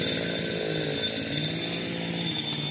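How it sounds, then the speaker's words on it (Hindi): A motorized pruning machine cuts dry leaves off a large tree, a steady high-pitched engine whine droning continuously, loud and close. "ये देखिए अभी मशीन से इधर कट रहा है सब सूखा वाला पत्ता।"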